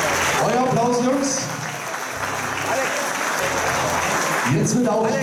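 Audience applause at a German bodybuilding newcomer championship, a steady, loud wash of clapping from the crowd, with a voice speaking over it.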